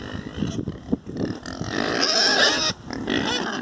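Pigs grunt and snort at feeding time on a farm, with irregular close bursts that include a longer squeal-like stretch near the middle, over low background noise.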